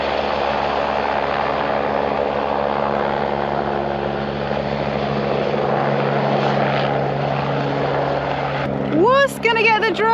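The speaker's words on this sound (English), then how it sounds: "there's kind of like helicopters taking off from just over there" Helicopters take off nearby at a mountain campsite, a loud steady rotor and engine drone filling the scene throughout; a brief voice cuts in near the end.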